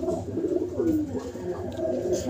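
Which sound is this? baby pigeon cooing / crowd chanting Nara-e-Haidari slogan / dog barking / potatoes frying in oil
baby pigeon cooing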